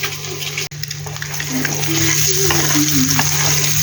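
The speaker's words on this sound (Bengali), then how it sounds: "ডিমটা ভেজে নিই" Eggs fry in a pan for an egg curry. A steady, close sizzle runs throughout, broken by one brief cut early on.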